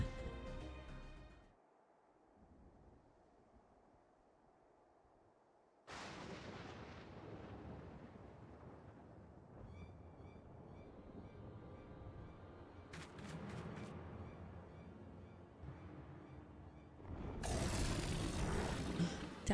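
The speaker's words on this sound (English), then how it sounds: "Oh, I think I hear a firework." Fireworks boom and crackle in the Final Fantasy XIV game world, heavy repeated blasts over a steady rumble, building to a loud dense crackling burst at the end.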